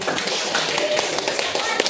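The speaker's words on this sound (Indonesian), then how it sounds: "Oke, tepuk tangan." Children in a classroom clap their hands together in a quick burst of overlapping claps, close and fairly loud, with voices in the room under the applause.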